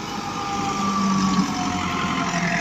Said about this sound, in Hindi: एग्रो टच की जी चापर मशीन है।